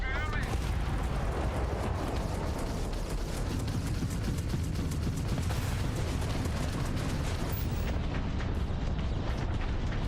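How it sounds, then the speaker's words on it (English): An autocannon in the video game Starfield fires automatically, a dense continuous barrage of booming, rumbling shots and blasts, loud and relentless throughout. "Because I got an autocannon that automatically going off."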